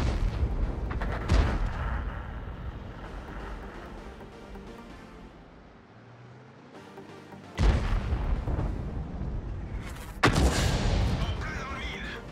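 Tank cannon fire in World of Tanks: several heavy booming shots, with two sharp loud blasts near the end that ring out into rumbling decay over a background of engine and battle noise.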